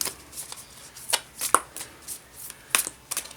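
Sacred Traveler Oracle Cards being shuffled by hand: several quick riffling bursts of card edges slapping together, close and fairly quiet, alone with no talking.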